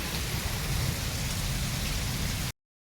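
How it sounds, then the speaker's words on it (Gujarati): Heavy rain from a sudden storm pours down in a dense, steady hiss, then cuts off abruptly. "ચાલુ વરસાદે તો આપણી હિંમત નથી વરસાદે વિડીયો ઉતારવાની કાં તન્વિશા"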